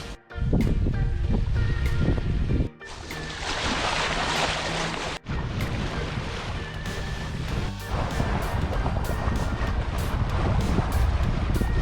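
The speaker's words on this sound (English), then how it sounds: "We are sailing upwind with our genoa for the first time." Sailboat beating upwind under its genoa in about 6 to 7 knots of breeze, with steady wind rush and water wash against the hull filling the clip, briefly dropping out twice before resuming loud and continuous.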